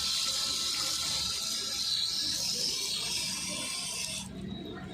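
Running tap water splashing steadily as hands and feet are washed at a temple washing spot, a continuous close hiss that drops off near the end.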